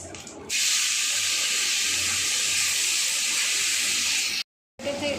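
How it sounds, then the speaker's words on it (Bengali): Tomato pieces drop into a pan of hot spice tempering of bay leaf, dried chilli, coriander, radhuni and cumin, setting off a loud, steady sizzling hiss that holds for several seconds, cuts out briefly, then resumes. "ফোড়ন থেকে গন্ধ বেরিয়ে গেলে তখন ঢেলে দেবো হচ্ছে টমেটো।"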